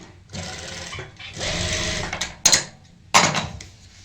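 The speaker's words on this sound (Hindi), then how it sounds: "इस तरीके से हम यहाँ पे ऊपर से सिलाई लगाएंगे।" A sewing machine runs in short bursts, stitching a folded margin on a kaftan, with brief pauses and a couple of sharp clicks between runs, close and clear.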